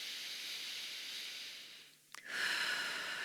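Steady, soft breathing during a yoga pyramid pose, a continuous airy hiss held close, briefly broken by a small click and a short pause before the breath resumes.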